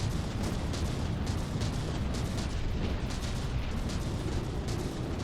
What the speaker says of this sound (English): The mortars are really packing a lot of scary stuff here.